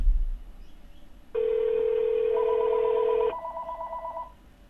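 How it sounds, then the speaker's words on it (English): A house phone rings after being called through a Pioneer car radio in a Scion: a steady electronic ring tone holds for about two seconds, then a pulsed beeping pattern follows, heard close and clear with no talk. "You can hear my house phone ring."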